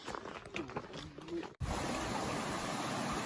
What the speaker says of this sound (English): crossing this creek